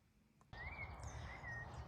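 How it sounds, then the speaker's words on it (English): Small birds sing in a garden, with a thin, clear whistling chirp starting abruptly and repeating twice over a soft outdoor background. "hear the birds singing"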